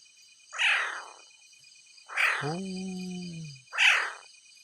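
A cat gives three loud, drawn-out meows spaced about a second and a half apart, close and clear, the middle one trailing into a lower moaning tone, over a faint steady electronic whine.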